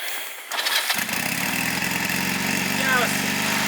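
A motorcycle engine cranks and catches to life, then settles into a steady, rumbling idle close by, with a faint voice in the background. It is the second bike being prepared for a winter motorcycle rally trip.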